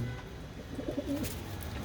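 A sturdy female pigeon in a fancier's loft gives a short, soft burst of cooing partway through, fairly faint against a quiet background hum, with no talking.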